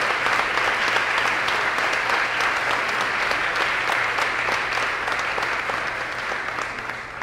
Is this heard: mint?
no